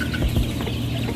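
Farm chickens cluck in short bursts near drinking nipples, a couple of close, loud clucks over a busy background din.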